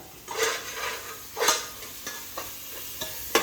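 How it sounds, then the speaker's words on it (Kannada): Spices for chicken biryani fry in a pan, faint sizzling broken by sharp scrapes and clinks of a spoon stirring against the metal, several distinct strokes spaced irregularly. "ಚೆನ್ನಾಗಿ ಫ್ರೈ ಆಗೈತೆ"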